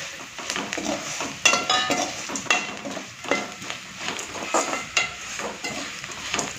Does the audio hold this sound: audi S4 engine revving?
no